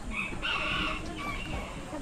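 A rooster crows at a moderate distance, its drawn-out call rising and holding over low background murmur.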